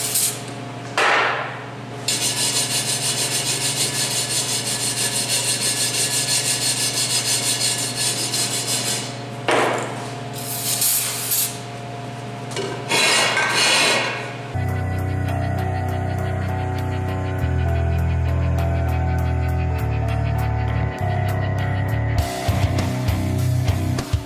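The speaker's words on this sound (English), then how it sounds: "I'm gonna use brake cleaner on this and then a wire brush and just get this old tire residue off here." A wire brush scrubs old tire residue off a Mazda Miata wheel cleaned with brake cleaner. The scraping is loud and continuous, then turns into a steadier, harder grinding partway through, close up with no voices.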